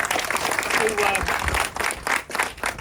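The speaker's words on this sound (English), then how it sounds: "Give her another round of applause." Applause for an honoree at a Nassau County Young Democrats gathering in a private home, a burst of clapping mixed with voices that swells and ebbs, thinning out toward the end.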